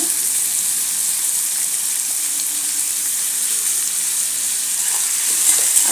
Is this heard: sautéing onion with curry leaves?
yes